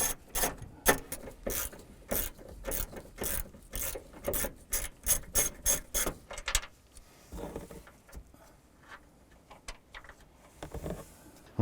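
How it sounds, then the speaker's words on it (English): A ratchet with a 14mm socket and extension loosens strut nuts on a 2008-2012 Honda Accord rear strut, a rapid run of close, sharp clicking strokes followed by slower, sparser ratcheting and rubbing. "Using a 14mm socket and extension, and go ahead and loosen and remove these nuts."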